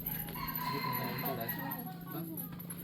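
Chickens clucking in a Hmong village, soft and fairly distant under nearby conversation, with a steady low hum throughout.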